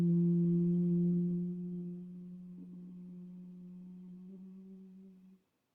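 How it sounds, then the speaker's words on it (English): Humming exhale of yoga bee breath, a low steady buzz held close to a microphone, strong at first then softening and fading out after about five seconds, alone with no talk. "But when we exhale, we start vibrating, humming as the bees."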